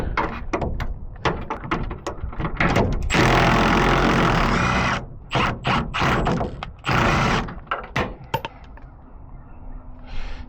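A ratchet cranks out a bed bolt on a truck during fuel pump replacement, giving repeated clicking strokes that break into a longer continuous grinding spin, loud and close.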